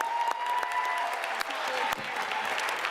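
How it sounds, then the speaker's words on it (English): Applause from parents and attendees at a school board meeting, a steady crowd of clapping with a few crisp close claps, moderately loud, while a faint voice or tone lingers beneath. "Let's give all our parents a round of applause."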